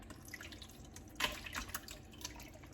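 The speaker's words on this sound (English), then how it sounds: "I'm going to just pour the tomatoes in there," Canned tomatoes poured into a food processor in a home kitchen, giving a brief wet glugging splash that peaks midway, with faint dripping before and after and no talking.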